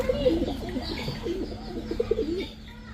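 A pair of teddy pigeons coo repeatedly in a steady series of soft, throaty, rolling calls, close by, with faint background noise.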